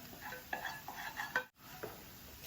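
Chicken being mixed by hand into a blended spice paste, giving soft wet squelching and scraping strokes with a few light clinks, fairly close and quiet, with a brief pause near the middle.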